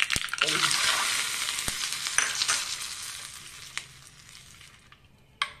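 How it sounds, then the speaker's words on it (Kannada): Cumin seeds and dry chilli pieces frying in a spoonful of coconut oil for a tempering make a steady close sizzle that slowly fades, with a few sharp clicks of a spoon stirring the pan. "ಈಗ ಜೀರಿಗೆ ಹಾಕ್ತೀನಿ, ಸ್ವಲ್ಪ ಫ್ರೈ ಆಗಲಿ."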